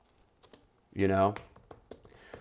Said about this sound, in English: I'm just going to type that in and see if it comes up with any ideas